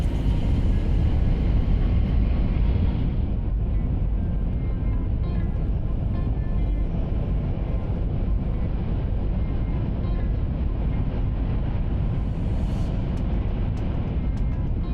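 Steady loud rumble and rushing roar inside the Green Car of a Yamabiko Shinkansen running at high speed, around 250 kph, continuous broadband cabin noise with no voices.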